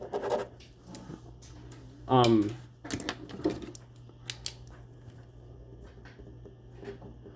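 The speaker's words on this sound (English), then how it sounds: "I wish I could have a pen that worked to write my last team" Pen scratching and scribbling on paper in short bursts, trying to get the ink flowing, with a brief rising squeak and light taps, close and quiet amid low background noise.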